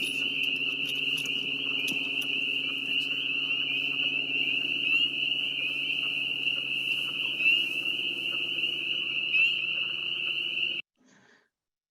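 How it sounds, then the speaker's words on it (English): Atlantic coast leopard frogs and spring peepers call at night in a dense, continuous chorus of high, steady peeping over lower croaking, running unbroken until it cuts off near the end. "there is an Atlantic coast leopard frog calling, but it's a little difficult to hear."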